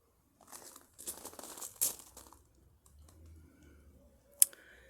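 Footsteps crunch through dry, heat-stressed garden plants and brittle debris after two heatwaves, a few crisp close crackles in short bursts, then quieter rustling and one sharp click near the end.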